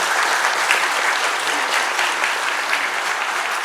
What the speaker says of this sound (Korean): 문정희 교수님께 다시 한번 박수 부탁드립니다